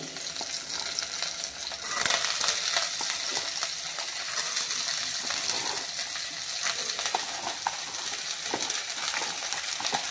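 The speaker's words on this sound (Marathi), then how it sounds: "आता आपण कापलेला कोबी घालून घेऊ" Chopped cabbage for kobi chi bhaji hits a hot pan of chillies and curry leaves, then fries with a steady sizzle. Clinks and stirring scrapes sound throughout, with no talk.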